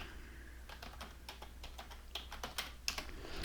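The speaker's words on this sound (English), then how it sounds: "let's type in Thanksgiving" Keys clatter on a computer keyboard in a short run of light, irregular taps that grow a little quicker and sharper toward the end, close by with no voices.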